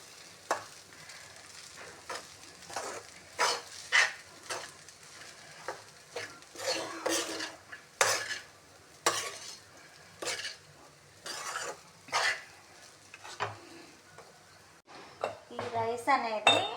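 Curry leaf rice is mixed with gravy in a pan, a run of repeated scraping and clinking spatula strokes in uneven bursts, close and fairly distinct against a quiet background, with a quicker flurry at the end.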